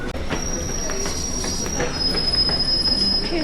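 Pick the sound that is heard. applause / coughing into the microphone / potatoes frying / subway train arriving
subway train arriving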